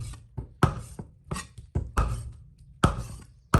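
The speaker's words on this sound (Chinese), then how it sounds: "先把鸡腿剁成小宽条，再剁成骰子大小的小块" A cleaver chops raw chicken thighs on a cutting board into small dice-sized pieces, giving about nine sharp, close, heavy thuds at an uneven rhythm, with brief quiet between strikes.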